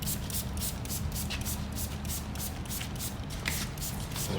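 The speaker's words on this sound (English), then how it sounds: "So we're gonna spray some water to make it expand bigger." Repeated short hissing bursts of sprayed water in a steady rhythm, fairly close but quiet, against a low background rumble.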